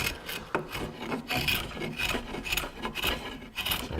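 A sharp chisel carves the wooden volute of a guitar neck with close, continuous rasping and scraping strokes in an uneven rhythm, with no talking.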